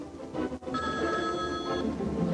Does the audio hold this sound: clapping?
no